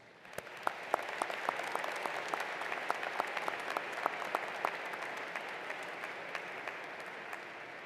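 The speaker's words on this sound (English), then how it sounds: "Please join me in congratulating them also with a round of applause." Audience applause at a university fall commencement ceremony, a steady wash of many hands clapping with sharp individual claps standing out, sustained at even loudness for the whole stretch with no talk.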